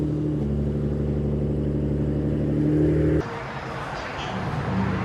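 Loud, steady V8 exhaust rumble from a 1997 Chevy Silverado 1500 with a 5.7-liter V8 and factory catalytic converters. It holds an even idle-to-rev drone, then cuts to a lower, rougher tone partway through.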